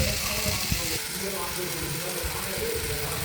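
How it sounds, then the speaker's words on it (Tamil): Salted, turmeric-marinated prawns sauté in oil in a pan for a Jaffna-style prawn curry, producing a constant close sizzle and soft crackle. "இப்போ இறால் சேர்த்ததுக்கு பிறகு நான் அதை அவிய வச்சுருக்கேன். எண்ணெயிலே அது வதங்குது."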